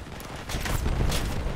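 Gunfire in the vehicle combat game Crossout, a short rumbling burst of booming shots that swells and holds at fairly loud level, without talk.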